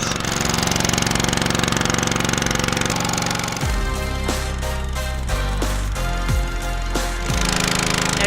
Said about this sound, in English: Engine is a little loud,